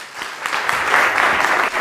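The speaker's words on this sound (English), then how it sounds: "let's give him a round of applause" A crowd claps steadily, a brief burst of applause from an audience, fairly close and even throughout.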